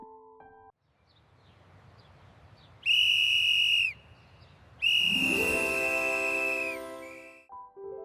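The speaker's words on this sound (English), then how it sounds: "whistle" Two loud, steady high-pitched whistle blasts, each about a second long, the second sliding slightly and trailing off, with a quiet gap between them.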